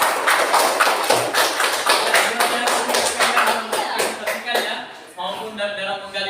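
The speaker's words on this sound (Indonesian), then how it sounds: "tepuk tangan kita semua hari ini" A school class claps hands together, a run of distinct, rhythmic claps that loosens and fades toward the end as voices take over.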